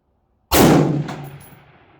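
A single rifle fitted with a CVLIFE 6x24x50 illuminated scope fires one sharp, loud crack after a moment of silence, followed by a ringing tail that fades over about a second.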